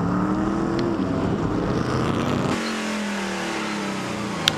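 Race cars accelerating at Circuit of the Americas as the field heads toward the hairpin, a loud blend of revving engines climbing in pitch, then one engine note dropping as cars pass, with no talk.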